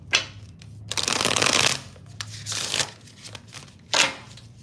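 A deck of tarot-style cards is shuffled by hand in several close bursts: riffling rattles and soft slaps separated by brief pauses, with no talking.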